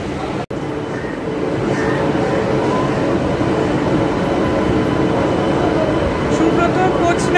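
A passenger train pulling into a railway station platform, a steady loud rumble of wheels and carriages rolling in, with voices and crowd noise mixed underneath throughout.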